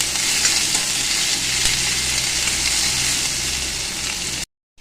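Plenty of onions fry loudly in hot oil in a pan. A dense, even sizzle sits close throughout, then cuts off abruptly at the end.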